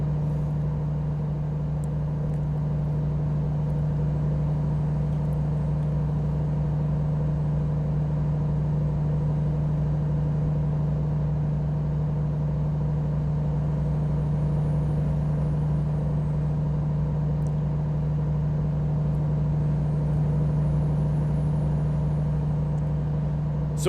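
Truck driving on the road in a farming video game, a steady low engine drone with a constant hum that holds unchanged for the whole stretch, with a few faint high chirps and no talking.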